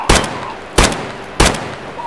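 Loud gunshots from a video game firefight, three heavy blasts spaced evenly about two thirds of a second apart, each with a short booming tail, with a fourth starting at the end.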